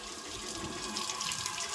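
Water gushing and splashing back out of a motorbike during a water-wash service, a steady broadband rush that keeps going at moderate level with no talk over it.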